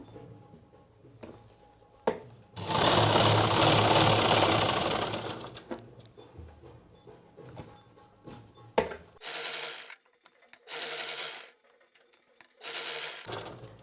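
A sewing machine stitches a seam on a pair of trousers, whirring loudly in one long sustained run before stopping and starting in several shorter bursts, with no voices.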